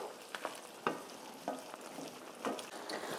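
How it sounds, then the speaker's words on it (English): Pasta sauce with noodles stirred and reducing in a pan, a steady soft sizzle with several scraping stir strokes spaced through it, moderately quiet and without talk. "We're gonna mix all this together and let this sauce come together and finish cooking."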